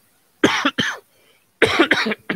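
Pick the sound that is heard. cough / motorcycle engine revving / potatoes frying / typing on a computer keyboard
cough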